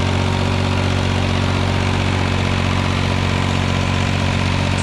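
An old tractor engine, rebuilt years ago, idles steadily up close with a deep, even rumble and a constant throb that holds unchanged from start to finish, with no talking.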